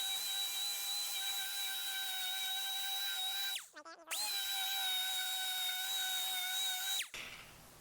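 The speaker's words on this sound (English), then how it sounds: "We'll give it a quick orbital with a 120 now." An orbital sander with 120-grit paper works a butt weld on a Scout 800 fender, giving a loud, steady high whine that dips and spins back up midway, then cuts off near the end.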